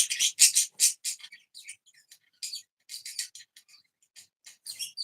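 Birds chirp in quick, high, bright bursts, loud and dense at first, then sparser and thinner, with no talking heard over them.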